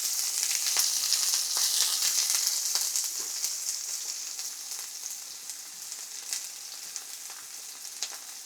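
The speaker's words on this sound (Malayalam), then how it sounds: "ഓയിൽ നന്നായിട്ട് ചൂടായി വന്നിട്ട് നമുക്ക് സവോള ഒന്ന് ഇട്ട് കൊടുക്കാം" Sliced onions sizzle steadily in hot oil for a Kerala-style prawn biryani, a dense, bright frying hiss with small pops, loudest at first and easing slightly over the stretch.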